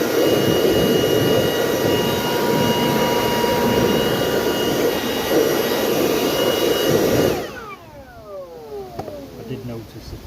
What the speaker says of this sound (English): We'll use the old garden blower.